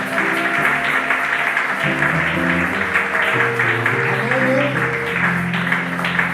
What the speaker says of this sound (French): Aidez-moi à acclamer notre chorale